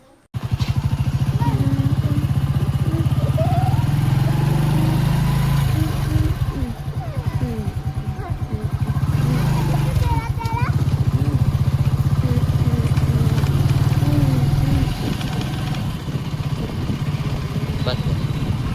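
A motorcycle engine runs steadily and close by for the whole stretch, a constant low drone with rattling texture, while someone speaks over it.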